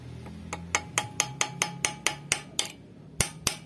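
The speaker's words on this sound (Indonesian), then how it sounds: "oke langsung aja kita palu" A hammer strikes an angle grinder to loosen a stuck cutting disc, about a dozen sharp metallic knocks in a steady, fairly quick rhythm, close and clear, with the last few spaced a bit wider.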